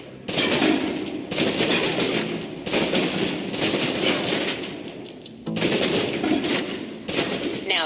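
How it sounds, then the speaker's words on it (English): Submachine gun in the video game Alpha Protocol emptying its magazine in loud sustained automatic bursts, several long strings of rapid fire separated by brief pauses. "Now, let's move on to the submachine gun. Now let's empty the clip."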